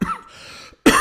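A single close cough opens, followed by a quiet pause and then a second loud, sharp cough near the end, with no talking in between.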